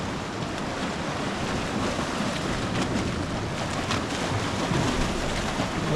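Steady ocean waves wash against the rocky coast at Dancing Ledge on the Quarry Coast, a loud continuous surf roar mixed with wind buffeting the microphone.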